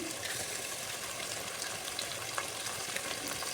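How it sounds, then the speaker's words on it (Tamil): Tomato sautéing with ginger garlic paste for a chicken gravy makes a soft, even sizzle throughout, with a few faint stirring scrapes and no voices. "அது பச்சை வாசம் போகிற அளவுக்கு வதக்கிக்கணும்"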